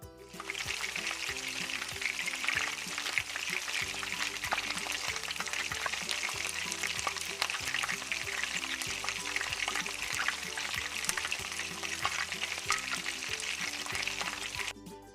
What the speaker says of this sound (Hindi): एक बर्तन में सरसों का तेल गर्म करेंगे और मछली के तमाम पीसेस को हम फ्राई कर लेंगे